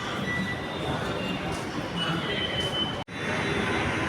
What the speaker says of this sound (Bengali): আমি এখন রায়দুর্গ মেট্রো স্টেশনে দাঁড়িয়ে আছি।